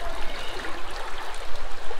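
Fast water gushes out from inside the rock of Robbers Cave in Uttarakhand, a steady, close rushing stream with bubbling and splashing texture and no voices.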